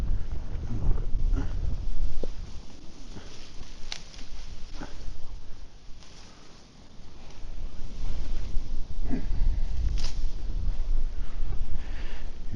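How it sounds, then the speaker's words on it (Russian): Strong side wind gusts buffet the microphone during pike fishing on a lake shore, a steady low roar with surges and brief lulls, no talk heard. "Ветер боковой, сейчас его снесет."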